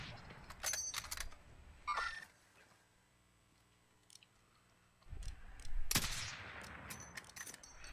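Gunfire in the Call of Duty Warzone video game, short bursts of sharp cracks and rattling shots near the start and again toward the end, separated by a quieter lull.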